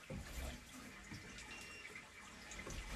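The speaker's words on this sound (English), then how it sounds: "Water is running." Water runs steadily into a residential sanitary sewer line through a 3-inch ABS cleanout in a basement, a continuous rushing, gurgling flow heard close by at low level.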